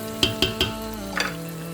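Onions, spices and tomatoes fry in a pan for biryani, a close soft sizzle broken by three sharp stirring clinks early on and another scrape toward the end.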